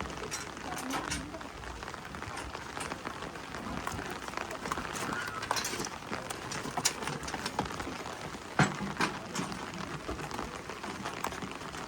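Steady rain falls in Pangasinan, a dense continuous patter of drops on surfaces with occasional louder taps, while a voice speaks softly over it.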